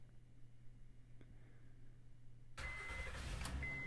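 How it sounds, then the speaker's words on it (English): A car engine cranks and catches after a quiet lull, settling into a steady running idle near a garage ramp during an oil change. "Now start up the engine and remove it from the ramps."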